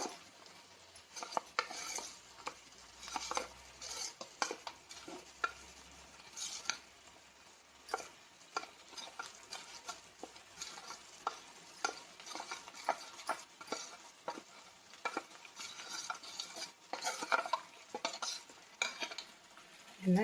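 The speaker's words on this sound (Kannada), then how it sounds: "ಹೀಗೆ ಚೆನ್ನಾಗಿ ಗಂಟಿಲ್ಲದ ರೀತಿ ಮಿಕ್ಸ್ ಮಾಡ್ಕೋಬೇಕು" A spoon stirs and scrapes a bread masala mixture in a pan. Repeated quick strokes sound fairly faint and close, with light metallic clinks and no talking.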